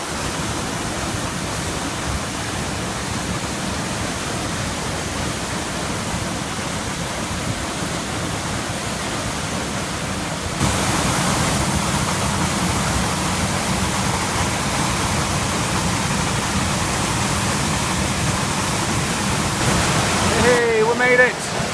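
A waterfall roars as a steady, broadband wash of rushing water, growing louder partway through as it comes closer, continuous and without talk.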